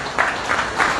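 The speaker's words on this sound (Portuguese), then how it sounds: "Salva de Palmas" A room at a political coalition's press conference breaks into brief applause, with a few bursts of clapping from a small crowd over about a second.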